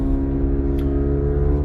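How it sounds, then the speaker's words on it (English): Loud, steady engine rumble from a car close by, a dense low drone with no pauses. "when this loud car is not behind me or in front of me"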